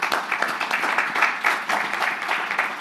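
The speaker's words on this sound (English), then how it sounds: "Please clap hands for myself." An audience at a corporate CEO event breaks into lively applause, a dense, steady burst of many hands clapping close by for about three seconds.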